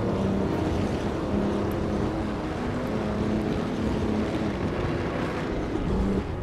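A 1936 Auto Union Grand Prix race car in Assetto Corsa, racing at Bremgarten, roars continuously at high revs, a dense steady engine drone with no break and no talk.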